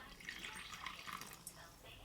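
A liquid mixture trickles and drips through a Chemex paper coffee filter at home, a faint continuous watery splashing with small drips, close and quiet.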